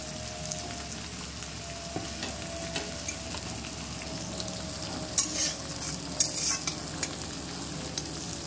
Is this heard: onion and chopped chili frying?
yes